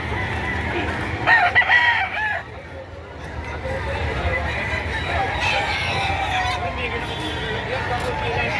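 Roosters and chickens at a poultry market crow and cluck nearby, with a few loud crows standing out over steady background clucking while people talk throughout.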